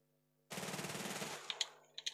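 Automatic gunfire in the video game Fortnite rattles in one quick, sustained burst, followed by a few sharp clicks and pings.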